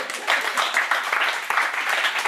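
A church congregation applauds and acclaims the Lord during a service, with surging waves of clapping mixed with voices.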